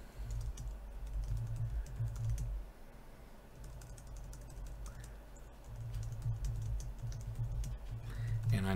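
Someone types a code comment on a computer keyboard, the keys clicking in quick irregular runs that stop for a moment and then start again, quiet and close by.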